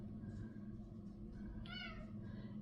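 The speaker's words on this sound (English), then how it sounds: "and then you just saw my cat" A house cat gives a single short, fairly faint meow partway through, heard over a low indoor hum with no talking.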